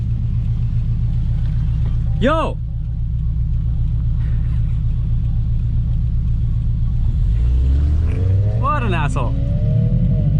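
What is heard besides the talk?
supercharged Subaru BRZ accelerating on the street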